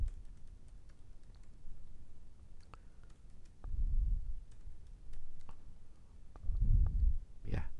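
Keys tapped on a computer keyboard while typing in Microsoft Word, with the Enter key pressed twice to add spacing; scattered soft clicks and taps sound close by, joined by a couple of low muffled thumps.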